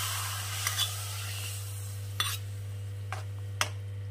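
Ghee and asafoetida mixture being stirred into a pot of Punjabi kadhi curry: a few soft, brief scrapes and clinks of a spoon against the pot over a steady low hum, with no talking.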